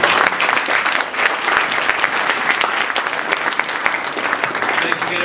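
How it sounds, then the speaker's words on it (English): An audience at a Hoboken tech meetup gives a round of applause, dense and fairly loud clapping from a crowd sustained for about five seconds, with a few louder claps standing out. "Don, David, round of applause."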